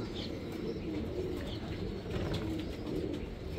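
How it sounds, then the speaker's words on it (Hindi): Pigeons cooing repeatedly in soft, low throaty calls, close by at a pigeon farm, with faint chirps and background noise around them. "एक मज़बूत कबूतर"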